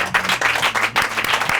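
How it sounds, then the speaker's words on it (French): Audience applause at the close of a live mentalist stage show, a brief burst of steady clapping, fairly loud and close, with no talking over it. "Encore une fois, applaudissez bien fort Perrine, s'il vous plaît, à la régie."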